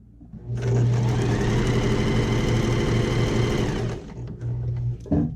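A domestic sewing machine stitches fabric in one steady, loud run of fast mechanical whirring and clatter lasting about three and a half seconds, then slows and stops, followed by a couple of faint clicks and a short knock.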